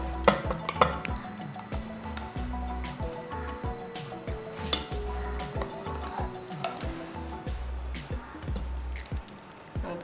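Tamarind spice paste for puli kachal is stirred in a pot, giving soft scraping and squishing strokes with light taps and a faint sizzle beneath a quiet tonal background.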